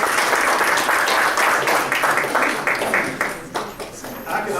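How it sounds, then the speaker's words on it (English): Sustained audience applause for an alumni speaker at a Mitchell College event, a dense even wash of many hands clapping that fills the room and thins slightly toward the end. "please give a round of applause to Mr. Steve Gill,"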